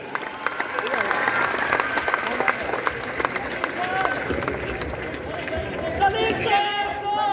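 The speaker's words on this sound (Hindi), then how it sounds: "इनके लिए जोरदार तालियां बजाएं" An audience at a teachers' event in Patna breaks into loud, sustained applause, dense clapping mixed with crowd chatter and voices throughout.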